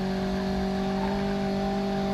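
Turbocharged Toyota Corolla driving at speed in BeamNG.drive, a steady sustained engine drone with strong tonal hum held evenly throughout, no talk.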